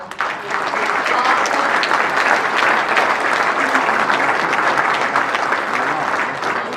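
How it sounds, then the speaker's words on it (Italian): A congress audience applauds steadily for several seconds, a dense even wash of clapping that swells in and tapers slightly at the end. "io vorrei dedicare davvero un applauso"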